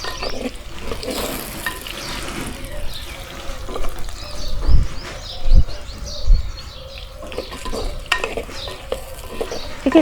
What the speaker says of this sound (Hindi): इस तरह से लगातार घी में भुने हुए शकरकंद